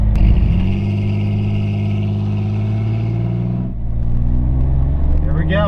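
A 2001 Chevy S-10 pickup engine holds a loud, steady droning rev against the stall, dips briefly, then surges again.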